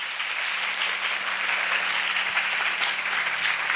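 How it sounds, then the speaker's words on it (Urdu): Sustained applause from a church congregation, dense and even throughout, loud and close with no speech over it. "اس کے جلال کے لیے زوردار تالیاں بجائیں"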